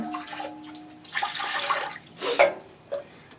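Water runs into a container in a few separate bursts, splashing and gushing close by with short pauses between pours, no talking.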